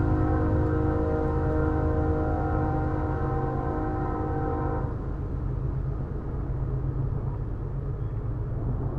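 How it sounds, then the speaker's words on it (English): A train passes close by, its loud, sustained multi-tone horn blaring for about five seconds before giving way to a heavy rolling rumble of cars. "Train!"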